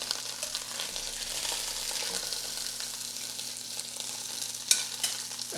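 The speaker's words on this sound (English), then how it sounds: "Trying to get these shanks browned is not easy because they're not like a uniform size." Venison shanks brown in hot oil with a constant close crackling sizzle, and one sharp pop of spattering oil near the end.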